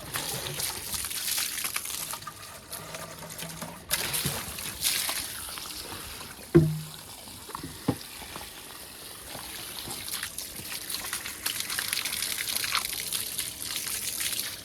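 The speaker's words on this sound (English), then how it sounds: "so we'll rinse it out with cold water before I put the milk in it" Cold water running and trickling as a calf feeding container is rinsed out, a steady wash of flowing water with a couple of brief knocks from handling midway.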